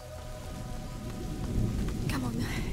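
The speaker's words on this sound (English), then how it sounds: "Lucas, Hugo, stay out of the rain." In the video game A Plague Tale: Innocence, steady heavy rain hisses over a deep, rumbling roll of thunder that swells partway through, all fairly quiet and continuous.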